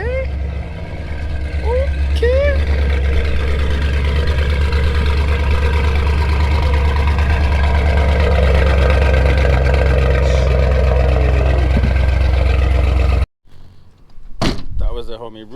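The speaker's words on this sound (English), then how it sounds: "That was the homie Ruben with his freshly painted Camaro." A freshly painted Chevrolet Camaro idles with a steady low rumble close by, holding an even drone for about thirteen seconds before cutting off abruptly, followed by a few brief knocks.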